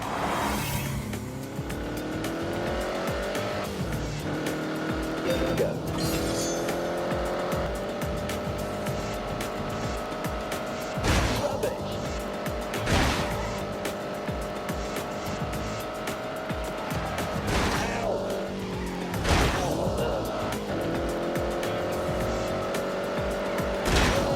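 Pedigree Italian classic cars motor along an open road, engines droning steadily with rising and falling revs and occasional sharp transients as they pass, continuous and fairly close throughout.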